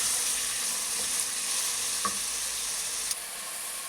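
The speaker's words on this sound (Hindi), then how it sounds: "चमचे से चला लेंगे।" Tomatoes and spices for a beef salan sizzle loudly and steadily in a pot as a spoon stirs them, with only a few faint clicks rising above the constant frying hiss.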